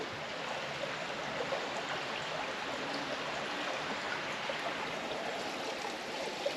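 The Eure river flowing beside a bikepacking route near Paris, a faint, steady broadband rush of moving water with no voices.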